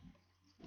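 Two short, low pig grunts from a Minecraft pig sound at the start and end, quiet and separated by a brief pause.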